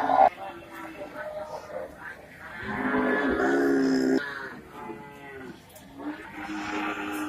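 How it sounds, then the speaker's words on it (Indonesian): A thin cow at a cattle market moos in one long, loud call near the middle, with market chatter and background noise before and after it. "Ini sapi kurus guys."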